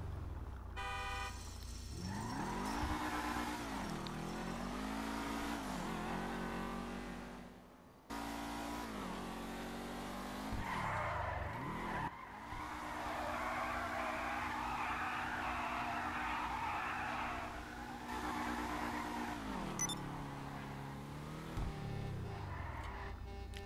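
A SEVEN-70 sports car in GTA Online revs and accelerates with rising and falling engine tones, tyres skidding between bursts and a horn tooting, loud and close with no talk.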